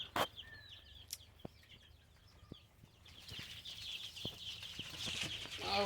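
Young desi chicks peep and cluck in quick, scattered high chirps that grow busier and more overlapping toward the end, close by, with a few soft knocks in the background.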